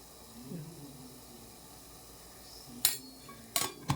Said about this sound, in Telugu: మళ్ళీ ఒకసారి అంతా కలిపేద్దాము